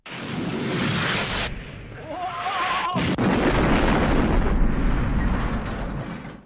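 In a James Bond film stunt scene, a spy slides down a hill in a cello case while real explosions go off around him. Deep booming blasts and rolling rumbles are mixed with whooshing film effects.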